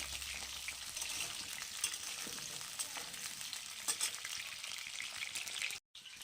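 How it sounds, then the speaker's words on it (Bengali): Potatoes fry in hot oil with a dense, steady sizzle and crackle that holds unbroken throughout, close and fairly loud, cutting out briefly near the end. "এবার আলুগুলো লাল লাল করে ভাজবো"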